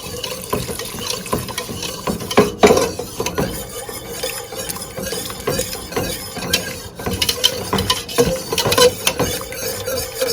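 Whisk stirring a lumpy macaroni pie mixture in a bowl, irregular scraping and clinking strokes with liquid sloshing, fairly close and alone.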